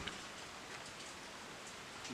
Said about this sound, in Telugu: ఇక్కడే పక్క వర్షం పడుతుంది